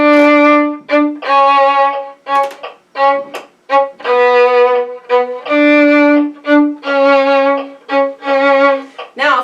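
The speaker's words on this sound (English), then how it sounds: "So we have one long note and then a clipped note following that." A violin plays a second violin part, repeating a pattern of a held note followed by a short, clipped note, with clear bowed tones and brief gaps between phrases.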